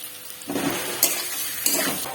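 Pumpkin seed mixture with turmeric sizzles in a hot pan while a spatula stirs and scrapes through it in a few distinct close strokes.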